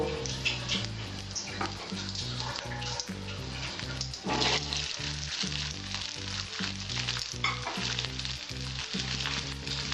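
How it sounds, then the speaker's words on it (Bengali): Potatoes fry lightly in mustard oil, giving a dense, close sizzle with regular pulsing stirs and occasional sharper crackles, with no speech heard. "এই সরষের তেলটা আমি আলুগুলো হালকা করে ভেজে নেব।"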